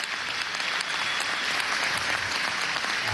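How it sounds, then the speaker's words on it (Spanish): Crowd at a collective labor contract signing event applauding an honored guest, a steady, moderately distant roar of clapping with no pauses. "Un aplauso a Siguaraya, vale."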